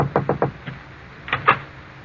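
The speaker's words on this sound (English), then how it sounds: "there is a knock at Lucia's door" Radio-drama knock on a bedroom door: three quick raps, a lighter fourth, then two more knocks after a short pause, close and clear.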